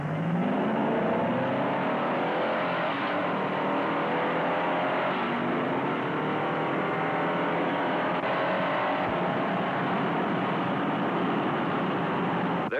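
A 1960s Ford Galaxie and a Chevrolet Impala accelerate hard side by side in a drag race, their engines roaring loud and continuous. The pitch climbs steadily through the gears, with no pause in the noise.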